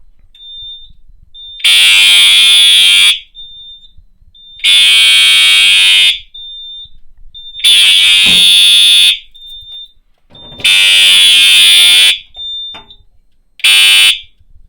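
A fire alarm system set off from a manual pull station blares loudly in repeated long horn blasts, about four and a half in a row, with a steady high beeping tone in the gaps between them.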